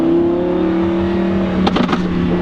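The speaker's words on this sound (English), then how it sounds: "it sounds so loud. That Ryft exhaust, guys, is insane." A Lamborghini engine with a Ryft aftermarket exhaust drones at a steady idle, then a brief burst of sharp revs near the end, loud and close.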